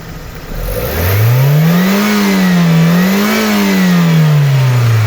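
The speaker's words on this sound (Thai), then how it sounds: "ลูกค้าฟังเสียงเครื่องนะแล้วผมจะ ดึงที่วัดน้ำมันเครื่องขึ้นด้วยแล้วก็จะเร่งเครื่องนะครับ" A Toyota 1.6-litre car engine revs up loudly from idle, its pitch rising, dipping and swelling again before settling back down, close and steady.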